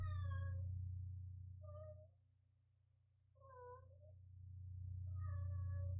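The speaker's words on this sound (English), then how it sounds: "A lot of meowing going on." A cat meows several times close by, drawn-out plaintive cries with short gaps between them, over a steady low electrical hum.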